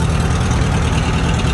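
A tractor of about 29 horsepower, fitted with a new rain cap and battery, runs steadily at idle nearby, a loud, continuous low engine rumble with no talk over it.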